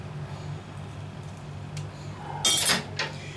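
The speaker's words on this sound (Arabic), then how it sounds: "ماشي، بقلب بقى كل المقادير دي كده." Clinking of a utensil against a dish while zucchini and chicken with spices are stirred together, a few brief metallic clatters over a low kitchen hum, fairly quiet and close.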